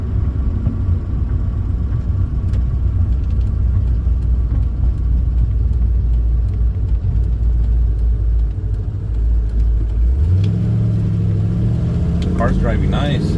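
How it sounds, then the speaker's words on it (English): A Pontiac GTO engine hums and rumbles steadily from inside the moving car, a loud continuous drone with an engine note climbing near the end, while someone talks over it. "The car's driving nice."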